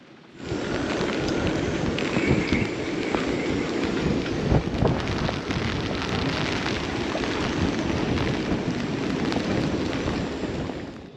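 Heavy rain and gusting storm wind batter a small boat tied up in a marina slip on New Zealand's North Island during Cyclone Gabrielle, a loud continuous roar with dull knocks and thumps and no voices.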